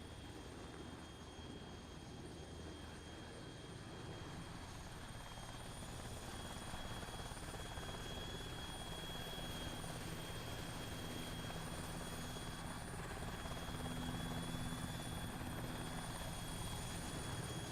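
A helicopter in the Arma 3 military simulation drones steadily as it approaches, its rotor and engine hum growing gradually louder, with a thin high whine running throughout and no voices.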